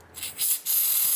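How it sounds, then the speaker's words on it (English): Silicone spray is squirted onto the fans of a Sapphire Nitro+ RX 6600 XT graphics card in two short bursts, a close, sharp aerosol hiss that ends in a sustained spray. "Give these a squirt with some silicone spray in here."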